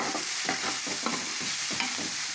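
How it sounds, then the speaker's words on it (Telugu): Coconut, cumin, coriander, cloves and cardamom fry in a pan, a steady close sizzle broken by rhythmic scraping strokes of stirring, with no talk. "ఇందులో కొబ్బరి వేస్తున్నానండి అలాగే జీలకర్ర ధనియాలు లవంగాలు యాలకళ్ళు"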